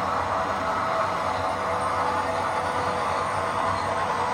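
Steady, continuous rumble and hum of a train engine running in a train simulator game, a dense broadband drone with no talking.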